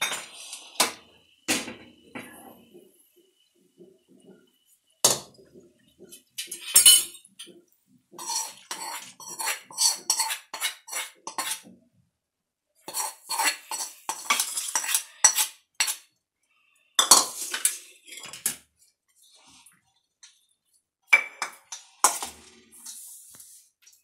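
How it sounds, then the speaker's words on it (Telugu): Metal utensils clink and scrape against a dish while tamarind lemon juice is mixed into rice, irregular bursts of clatter separated by short pauses, up close and alone. "ఇప్పుడు ఈ పులుసును రైస్లో యాడ్ చేసుకుందాం."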